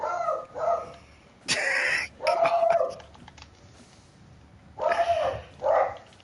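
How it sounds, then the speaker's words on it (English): A dog barks in several short bursts with whiny, whimpering yelps between them. The sounds are moderately close, with quiet gaps between the bursts. "She hears dogs."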